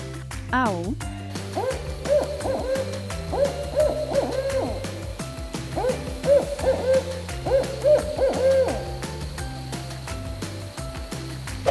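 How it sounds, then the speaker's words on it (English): An owl hooting in a guessing game of animal sounds, repeated rhythmic hoots standing out clearly over steady background music, with a brief swooping tone at the start. "Owl."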